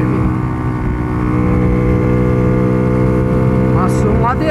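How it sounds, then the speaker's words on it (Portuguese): Honda Pop 120 motorcycle engine pulling in third gear up a very steep hill with a new clutch and exhaust, a loud steady droning hum close by, with a brief bit of speech near the end. "E olha como é que a moto tá subindo."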